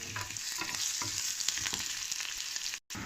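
Onion with cumin, mustard, fennel, grated ginger and chili frying in hot oil for poha, a dense steady sizzle with stirring scrapes, close up, cutting off briefly near the end.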